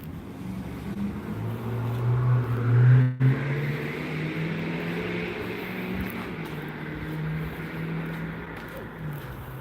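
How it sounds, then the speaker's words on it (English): A vehicle pulls in and turns around in a yard where a black truck and an orange truck are parked: a steady low engine rumble, swelling briefly near the start before settling into a continuous idle-like drone. "Somebody just pulled in"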